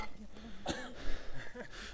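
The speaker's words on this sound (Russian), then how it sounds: "Но все кашляют, уже сказывается высота." One short, harsh cough on a trekking route at about 5,100 metres altitude on the way toward Everest; it bursts out once amid low voices and outdoor murmur.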